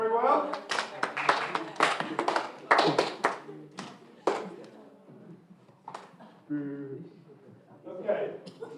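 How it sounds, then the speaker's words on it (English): A small group at a lighting workshop gives scattered claps for two participants, uneven bursts of hand claps mixed with voices talking and laughing close by. "Give them a round of applause, did that very well."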